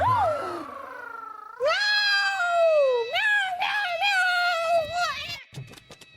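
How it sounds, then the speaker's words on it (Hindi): A cat meows repeatedly inside a palace, long rising and falling cries close and loud, several in a row, with a brief spoken exclamation near the start. "महल में बिल्ली आ गई है, बिल्ली"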